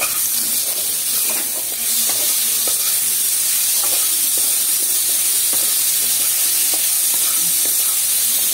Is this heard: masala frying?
yes